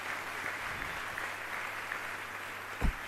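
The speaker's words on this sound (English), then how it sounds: "Request a round of applause for all the devotees on the stage." Applause for devotees on stage at an ISKCON Hare Krishna Hill celebration, a faint, distant, steady clapping wash with one sharper thump near the end.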